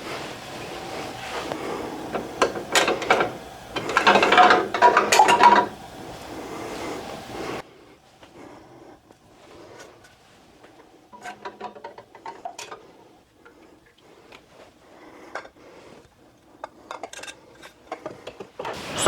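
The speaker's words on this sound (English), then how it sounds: "And now we can take the jars out of the canner." Glass canning jars of turkey soup starter clink and knock as they are lifted out of a canner, a cluster of close, sharp glassy taps and clatters, followed by sparser, quieter clinks.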